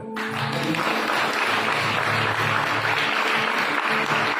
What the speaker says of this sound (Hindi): ताली नहीं बजाते हो?